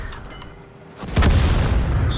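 A tank gun hit in World of Tanks: a sudden heavy boom after a quieter moment, followed by a loud rumbling, crackling tail that sustains to the end, close and dominant.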